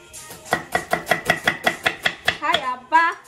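A knife chops onions into small cubes on a cutting board, about a dozen quick, even, close strokes in a steady rhythm, followed by a brief scraping and shuffling of the pieces.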